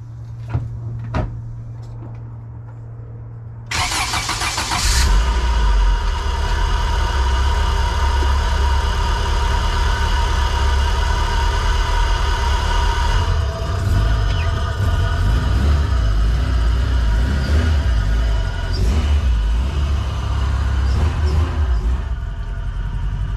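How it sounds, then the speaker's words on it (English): A car engine warming up catches after a few seconds and settles into a steady, close idle that runs on evenly, with no one talking. "So when the car is warming up, it is dying on its own."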